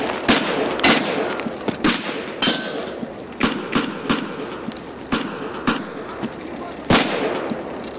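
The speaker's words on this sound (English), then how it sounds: "Actually shooting at me." Gunshots in the video game Escape from Tarkov ring out as sharp, loud single and double reports at irregular intervals over about eight seconds, with a noisy background between them.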